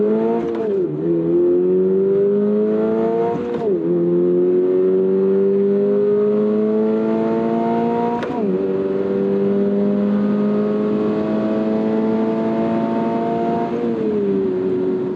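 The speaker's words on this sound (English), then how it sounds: "Being a drag strip, I pre-predicted I'd need a fair bit of revs in a small capacity, naturally aspirated engine to try and get out of the hole" A small-capacity, naturally aspirated car launches hard down a drag strip at full throttle. The loud engine climbs steadily in pitch through each gear, with several sharp shift breaks and no voices.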